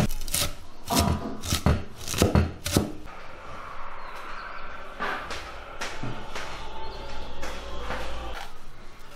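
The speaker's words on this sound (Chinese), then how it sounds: "把包菜切碎。" Cabbage chopped with a knife on a board: a quick run of sharp, loud close chops at first, then softer, scattered cuts and scraping sounds.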